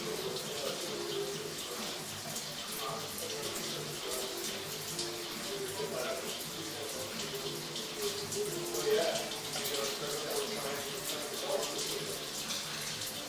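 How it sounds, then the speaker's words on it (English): Water runs steadily from a sink faucet and a bathtub during a drain-clearing job, a continuous broadband hiss filling the whole stretch, with faint voices and occasional clatter underneath. "we've got water running from a sink, and we also have water running from a bathtub"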